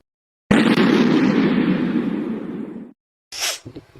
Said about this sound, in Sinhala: දවස් අවසාන වෙන්න කලින් රතිඤ්ඤයක්වත් පත්තු කරලා දාමු